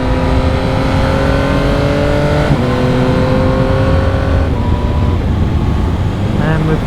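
Yamaha MT-09 SP motorcycle engine pulling hard under held throttle, with clean quick-shifter upshifts as the steady engine note drops in pitch at each shift, loud and continuous with wind noise throughout.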